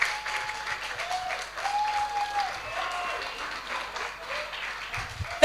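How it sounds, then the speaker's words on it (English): Audience applause for presenters at a platform launch event, a moderate, continuous patter of clapping with a faint tonal hum and some murmuring voices underneath. "A round of applause for them one more time, please."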